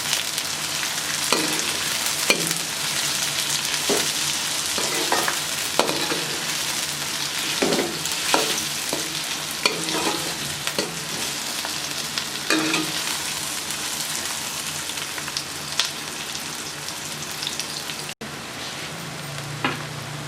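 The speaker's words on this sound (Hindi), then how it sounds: "प्याज को अच्छे तरीके से फ्राई करेंगे।" Onions sizzle steadily in hot oil in a pan while being cooked for bhindi fry. The frying hiss is dense and continuous, with a few scraping stirs throughout and no talking.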